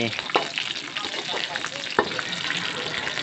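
Cicadas fry in hot oil in a pan, giving a steady, loud sizzle and crackle up close, with a couple of sharper stirring knocks and a voice faintly underneath.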